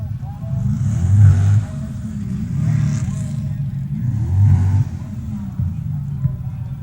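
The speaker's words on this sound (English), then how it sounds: "Cottle's 55 Chevrolet will have about a day and a half head start" A 1955 Chevrolet Pro Stock drag car at the 1971 NHRA Winternationals gives a steady, loud low engine roar that surges a few times, with a commentator's voice over it.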